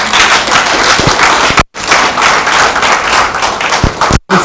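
A conference hall audience at the Ghana Football Association congress breaks into dense, sustained clapping, loud and close, with two brief cuts in the sound.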